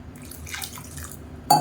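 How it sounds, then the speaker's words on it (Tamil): Water is poured into a cooking pot on the stove while making a South Indian lunch-box dish, a short splashing trickle ending in a brief sharper clink near the end, with no talk. "இன்னும் கொஞ்சம் தண்ணி சேர்த்துக்கலாம்"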